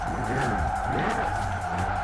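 A VW Golf Mk1 drifting in Forza Horizon 4, with a steady, loud tire squeal running over the engine drone for the whole stretch and no pause.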